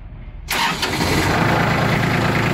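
A Kubota ZL1-275 tractor with front loader cranks and catches within half a second, then settles into a loud, steady diesel idle close by.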